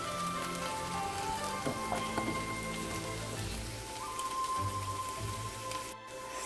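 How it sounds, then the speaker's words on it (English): Tomato paste seasoning fries in a pan for a cabbage and chicken stew, a soft, steady crackling sizzle held at low level throughout with no talk. "my season has been frying up here for about 2 to 3 minutes"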